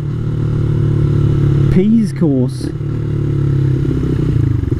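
A motorcycle ridden around town on errands, its engine a steady mid-pitched drone close by while a rider talks over it.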